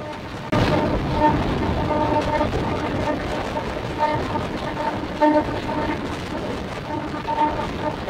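A train running through Jalalkhali railway station, a continuous rolling rumble heard from on board, with faint tonal hums rising and falling and occasional rattles.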